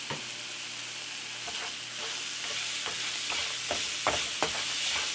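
Roughly a tablespoon and a half of garlic frying in a pan with zucchini, a constant sizzle under a series of sharp spatula scrapes and taps that grow busier toward the end, close and clear.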